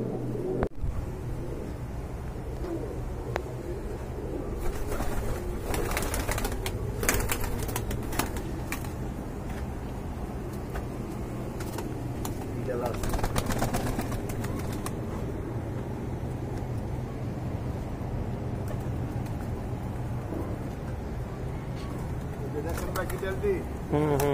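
Pigeons at a seller's stall coo and flutter in a busy market, their calls mixed with traffic noise and steady background chatter from people talking nearby.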